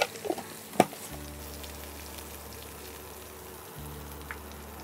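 Dried red chillies fry in hot oil with a steady, close sizzle; a couple of sharp clinks of a utensil land early on, and no one speaks.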